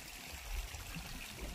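Water from a just-opened tap runs in a steady broadband rush, close and continuous, with no voices.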